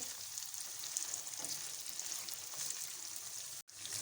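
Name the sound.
chicken frying in a pan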